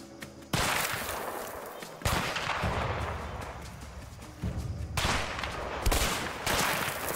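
Gunfire in the co-op escape game A Way Out: a string of loud, close shots and blasts repeating every second or two, each with a heavy, booming tail, no talk over it.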